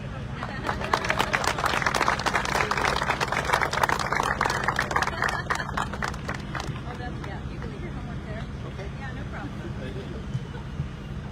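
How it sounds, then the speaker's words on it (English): At a VTA announcement of federal funding for BART Silicon Valley, an audience breaks into brisk applause that fades over the first half. A steady low hum runs underneath, and a voice speaks as the clapping dies away. "Let's give him another round of applause"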